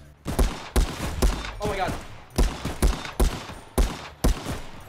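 Gunfire in a Call of Duty VR game rings out as about nine sharp, loud single shots at an uneven rhythm, with a person briefly speaking between them.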